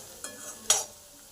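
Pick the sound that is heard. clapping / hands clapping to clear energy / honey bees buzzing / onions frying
onions frying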